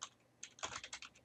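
Quick typing on a computer keyboard into a Chrome browser search box, a short run of close, light clicking keystrokes at a steady pace with no talking.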